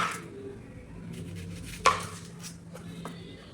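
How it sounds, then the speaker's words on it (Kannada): An onion is chopped into small pieces on a cutting board, with a few knife strikes spaced irregularly and one sharp, louder chop near the middle, close and quiet with no talking. "ಈರುಳ್ಳಿನ ಚಿಕ್ಕದಾಗಿ ಕಟ್ ಮಾಡಿಕೊಂಡು"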